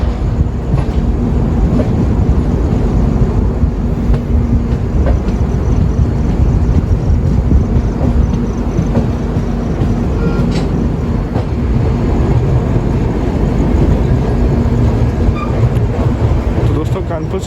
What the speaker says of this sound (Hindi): कानपुर सेंट्रल के प्लेटफॉर्म नंबर 4 पे हमारी ट्रेन का अराइवल हो चुका है।